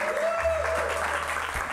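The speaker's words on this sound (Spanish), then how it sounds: "¡Fuerte el aplauso a nuestro oficiador Comedia Ticket!" Live comedy show audience applauding steadily through the whole stretch, a dense wash of clapping with a faint low hum beneath and a brief tonal whistle near the start.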